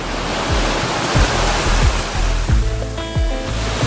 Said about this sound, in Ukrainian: Покажу зараз вам хвильки на океані.